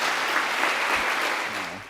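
A conference audience at a Python event gives a big round of applause, dense even clapping filling the room for a couple of seconds before tapering off as a voice begins to come in.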